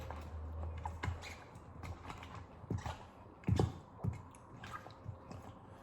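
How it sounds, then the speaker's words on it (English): Cucumber and onion salad seasoned with pepper and salt being tossed and stirred in a bowl, giving soft wet squishes and scattered knocks at a steady, unhurried pace, close and fairly quiet with no talking. "and then we're gonna mix it again"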